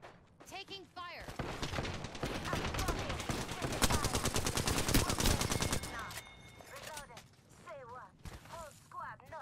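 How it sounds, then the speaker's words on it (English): Dense bursts of Apex Legends gunfire, from a fight near the ring, fill the middle of the clip. They come as rapid close volleys, with players talking over them before and after. "Getting shot at. Taking fire."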